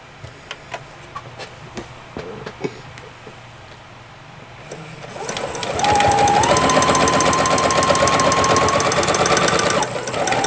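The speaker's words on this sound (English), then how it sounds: "Make sure my husband can hear the sewing machine going." A home sewing machine starts up after scattered clicks and handling noises, then runs steadily and loudly with a dense, rapid mechanical whir that holds for several seconds before easing slightly at the end.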